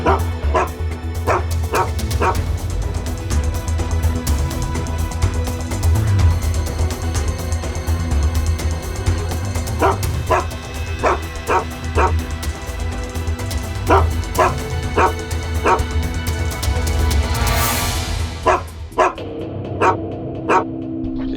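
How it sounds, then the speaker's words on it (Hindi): A dog at a construction site barks repeatedly in short bursts of yips and bow-wows, loud and near, with a faint whimper over continuous background noise. "यहाँ तो कोई भी नहीं है, फिर ये कुत्ता क्यों भौंक रहा है?"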